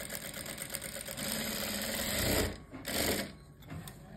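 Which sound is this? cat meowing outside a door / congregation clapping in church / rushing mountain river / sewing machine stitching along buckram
sewing machine stitching along buckram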